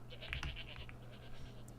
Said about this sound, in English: Oh, maybe I should shear that rainbow sheep.